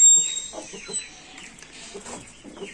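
Several village chickens cluck softly and intermittently nearby, with a faint high-pitched tone lingering in the background.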